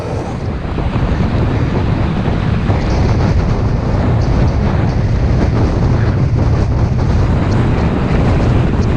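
Heavy wind buffets the microphone on a winter road bike ride into a headwind through the Lincolnshire Wolds, a loud constant low roar with no talk.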